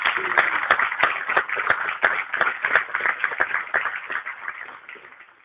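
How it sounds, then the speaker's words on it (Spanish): Audience applause at a forum, a steady patter of many hands clapping at moderate volume that fades toward the end. "un aplauso para ellos"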